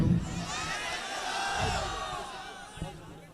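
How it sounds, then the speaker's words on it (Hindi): Applause and cheering rise from an audience at an All India Mushaira poetry gathering in Barabanki as a poet is welcomed to the mic, a steady crowd roar with whoops that swells and then fades. "माइक पर तालियों की गूंज में इस्तकबाल"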